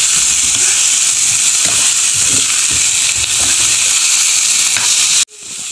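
A dish sautéing in a pan, a steady close sizzle with scraping stir strokes that runs for about five seconds and then cuts off abruptly.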